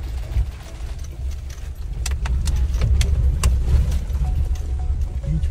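A small car engine labors up an off-road track near Kasol, a steady close low rumble with metallic rattles and jangling clicks over the bumps, loudness rising midway.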